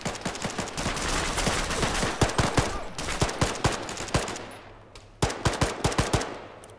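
Gunfire in the ArmA 3 military game, loud rapid bursts of sharp shots in quick clusters, a brief lull, then another tight volley of cracks near the end.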